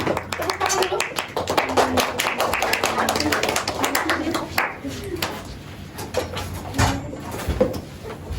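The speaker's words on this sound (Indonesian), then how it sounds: "Tepuk tangan dulu." Students applauding in a classroom after a group presentation, uneven clapping from a small group with distinct individual claps, fairly close, with talking and shuffling mixed in.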